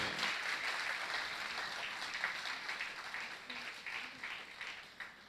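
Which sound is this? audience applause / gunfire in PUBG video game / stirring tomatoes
audience applause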